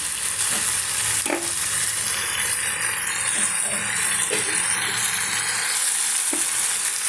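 Spinach frying in a pan for a Kerala-style stir-fry without ground coconut, giving a steady loud sizzle throughout, with a few scattered stirring knocks and scrapes, close and without speech.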